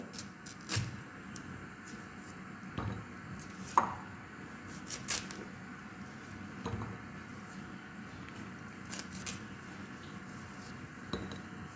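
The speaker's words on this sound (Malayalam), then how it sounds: "മുരിങ്ങിക്ക നമുക്ക് ചെറുതായിട്ട് ഒന്ന് അരിഞ്ഞെടുക്കാം" Moringa drumstick pods are chopped into small pieces on a board, with sparse, irregular knife taps and thuds at moderate distance over a quiet kitchen background.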